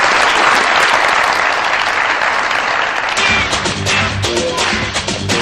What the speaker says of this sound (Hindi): बहुत सारी तालियां वसीम भाई के लिए